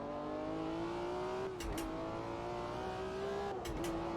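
Engine of the BMW M1 Procar in the racing sim Automobilista 2 (AMS2), a steady high-revving drone with two quick gearshift dips, loud and continuous with no talk over it.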